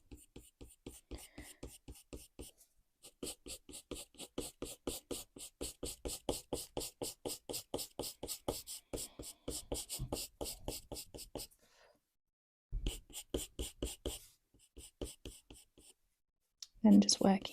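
Coloured pencil scratches across paper in quick, rhythmic bursts of short strokes while a realistic white cat eye is drawn, with brief pauses between the runs of strokes.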